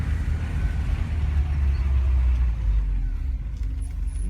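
A manual-transmission car pulling out, a low engine rumble from inside the cabin that builds and holds steady, then eases slightly toward the end.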